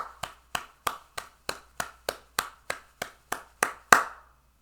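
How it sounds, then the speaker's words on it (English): A dozen sharp, single hand claps ring out close by at an even, unhurried pace, the final one loudest, each decaying quickly into silence with no talking. "All I'm going to do is clap one more time."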